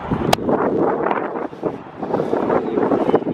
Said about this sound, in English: It's windy as hell, so the mic will probably get all messed up.